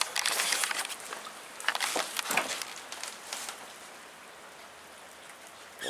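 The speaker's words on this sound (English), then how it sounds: "Nice, steady rain." Steady afternoon rain falls outdoors, a soft continuous hiss of drops with louder spattering bursts early on, easing to an even patter; faint birds may sit in the background.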